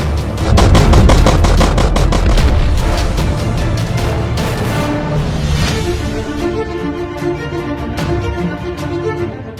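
Sustained, loud gunfire in a mountainous area of Papua during an armed clash between security forces and a militant group, dense bursts of rapid automatic shots running continuously for the whole stretch, close and heavy with no voices.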